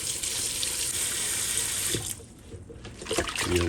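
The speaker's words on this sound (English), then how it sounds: "Now we're going to run cold water on it" Cold tap water pours steadily into a kitchen sink over pieces of stew beef, a continuous close splashing rush that eases briefly in the middle before surging again, with no talking.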